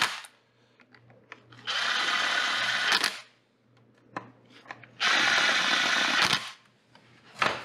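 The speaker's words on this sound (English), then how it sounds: "We'll just get them cinched up with the impact and torque them" An impact wrench cinches up the bolts on an LSX oil pump in two loud bursts of rapid hammering, each roughly one and a half seconds long, with quiet shop pauses and small clicks between them.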